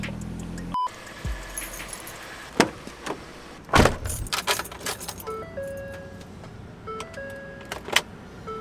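A pickup truck in a driveway: keys jangle, a door thunks, the engine cranks and starts, then a few clunks and electronic chimes follow as it is readied to move, fairly quiet overall.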